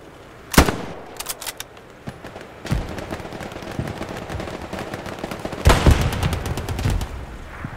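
MG42 machine gun in Hell Let Loose: sharp loud shots open the stretch, then scattered bursts of automatic fire and distant gunfire roll on, with a heavy cluster of rapid shots later.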